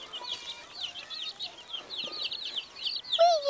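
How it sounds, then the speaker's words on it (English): Chickens cluck and chirp continuously in a farmyard at breakfast time, with a busy overlapping chatter of short calls at moderate volume. "Come on, little chicks. Time for breakfast."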